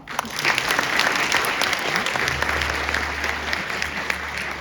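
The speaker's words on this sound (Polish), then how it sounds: "Teraz brawa." Audience applause at a volunteer awards gala, steady and sustained across the whole stretch with dense overlapping claps, a low hum entering partway through.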